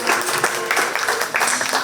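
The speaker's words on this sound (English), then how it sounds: "If you would, please give these exhibitors a round of applause." Spectators at a 4-H county fair swine show applaud the hog exhibitors, a short burst of uneven clapping in quick, irregular waves at moderate loudness.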